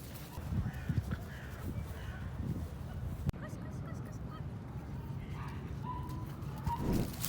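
Crows caw intermittently outdoors on open ground with pigeons nearby, the calls fairly distant and soft against steady background ambience and some low rumble.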